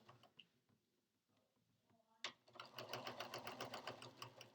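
A sewing machine stitching along the edge of a fabric mask, quiet at first with a few soft clicks, then starting abruptly into a fast, steady rattling whir, close and alone.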